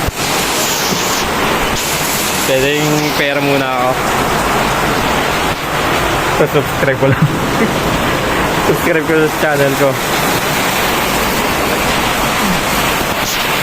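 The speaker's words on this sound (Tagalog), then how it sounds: "Lakas ng ulan." Steady heavy rain hisses throughout while people talk and laugh over it.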